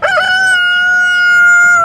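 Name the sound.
rooster crowing at a livestock market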